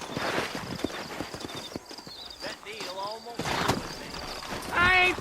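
Horse hooves clip-clop at a steady walking pace in a video game, mixed under voices talking and a brief neigh or whinny near the end.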